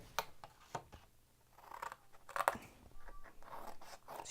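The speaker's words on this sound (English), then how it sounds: "So here we're going to cut up, and we're going to cut out from the corner" Scissors cut paper for a triangular box, producing several close, crisp snips and crunchy rustles scattered irregularly, with soft paper handling in between.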